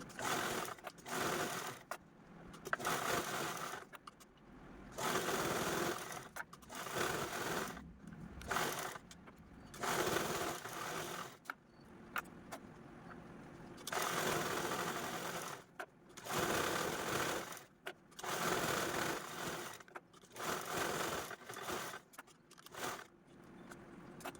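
A sewing machine quilts layered fabric with diagonal stitch lines, its needle chattering in repeated bursts of a few seconds each, separated by short pauses, close and steady with no voices.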